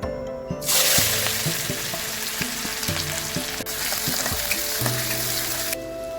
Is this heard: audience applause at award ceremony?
no